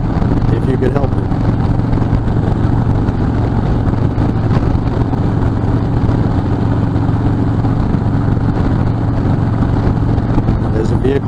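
A motorcycle rides through traffic among packs of cars, its engine droning steadily up close with wind rush throughout and surrounding vehicle noise, while a rider talks over it.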